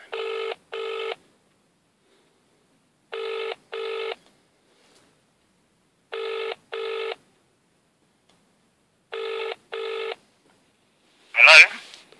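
A telephone rings on an outgoing call with four evenly spaced double-burst ringback tones, clear and alone against silence, ending in a brief sharp click.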